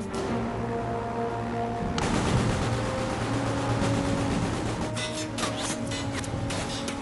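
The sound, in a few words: machine gun fire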